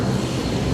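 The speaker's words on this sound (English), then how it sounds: "there's a bit of noise. I'm actually at the airport" Airport background noise, a steady low rumbling roar of aircraft engines, continuous and moderately loud with no talking.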